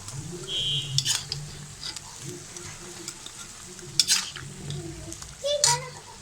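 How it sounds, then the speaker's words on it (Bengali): Chicken being stirred with ginger and garlic paste in a pan for chicken bhuna khichuri, a soft scraping stir with light frying sizzle and occasional utensil clinks, close and moderately quiet. "2 টেবিল চামচ রসুন বাটা দিয়ে চিকেনটার সাথে ভালোভাবে মিশিয়ে নেব"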